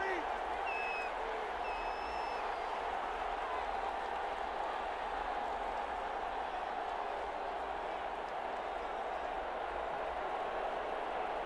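Steady stadium crowd roar fills an American football video game (Madden) as the Packers play in Minnesota, a continuous wash of cheering with no break, heard under game commentary.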